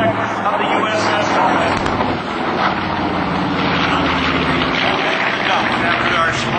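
A B-25 bomber with 1,700-horsepower engines passes low at an airshow, its loud, steady engine roar filling the whole stretch while an announcer talks over it.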